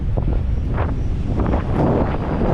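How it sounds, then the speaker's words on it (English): Loud, steady wind buffeting the microphone on Yaverland Beach, Isle of Wight, on a winter day, a continuous low roar with surf-like wash underneath and no voices. "lovely day, a little bit windy"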